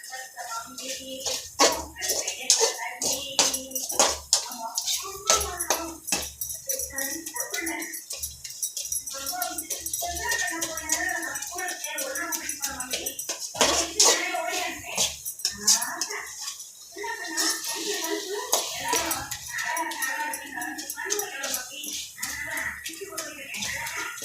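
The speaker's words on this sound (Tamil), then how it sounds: "மித்ததெல்லாம் இருந்தால் கரண்டியை வச்சு நல்லா மசிச்சிடணும்" A ladle mashes and stirs cooked mango in a pan for mango pachadi, giving repeated soft scraping knocks and clinks in an irregular rhythm while someone talks over it in Tamil.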